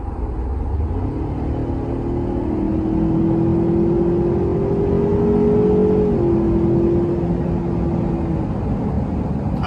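Engine of a 2019 Ford Ranger XLT pickup truck revs up and holds, a steady rising rumble and whine close by, with no talk.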